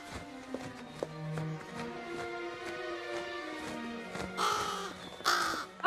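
A crow caws in a cartoon, with harsh calls recurring over a steady bed of background music and a brief louder flurry near the end; no one speaks.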